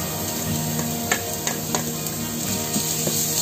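Shallots and garlic sizzling in a pan, a steady crackling fry with scattered spatters and a few scraping stirs of the utensil, close and loud.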